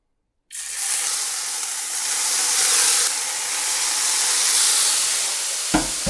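Gnocchi hit hot oil in a pan and burst into a loud, steady close sizzle that holds at an even level, with a small clink near the end.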